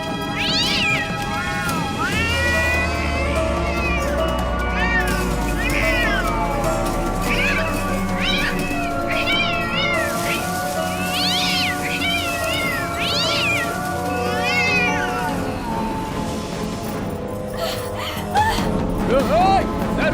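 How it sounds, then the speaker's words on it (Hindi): A cat meows repeatedly and loudly, with long wavering yowls and caterwauling cries close by, in a Hindi-dubbed horror film, while people talk and shout over it. "बिल्ली को उठा के बाहर फेंकना।"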